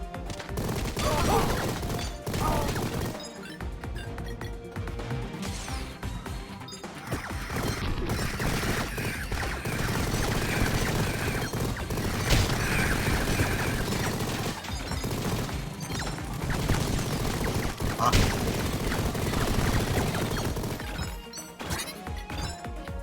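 Machine gun fire in the video game Mighty Goose, a dense continuous barrage of rapid crashing shots and impacts layered over game music, loud and sustained with brief pauses.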